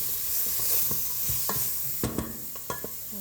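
Chopped lemongrass fries in rice bran oil in a pan, making a steady soft sizzle with a few stirring scrapes and clicks over it. The sound is close and moderately quiet, with no voices.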